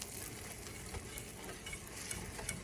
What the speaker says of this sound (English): And we're going to stir that together.